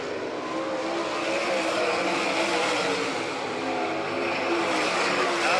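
Race cars roar around a dirt oval during the final lap of an All Stars versus NCRA event in Doniphan, Nebraska, a dense, continuous engine howl rising and falling slightly as the pack sweeps through the turns, heard from a distance.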